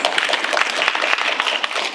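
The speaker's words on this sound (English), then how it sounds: "let's hear a round of applause for that" Applause from a symposium audience at an environmental justice event, a steady dense patter of many hands filling the whole moment at moderate loudness, with no voices over it.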